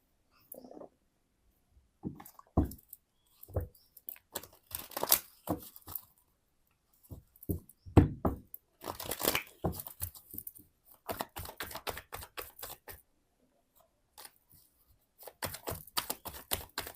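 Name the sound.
tarot cards being drawn from the deck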